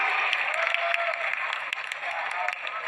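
An audience of people with disabilities from East Java applauds at a gathering, a brief, loud, continuous wash of clapping close by.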